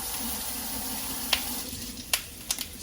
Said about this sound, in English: Onion sauteing all day.